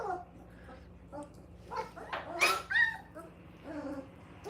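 Puppies whimper and give short high yips in a series of brief, uneven cries, fairly close and moderately loud, with a faint steady hum underneath.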